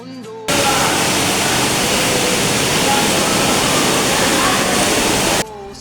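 Waterfall inside a cave, a steady full roar of falling water that fills the space loud and close, starting abruptly and cutting off near the end.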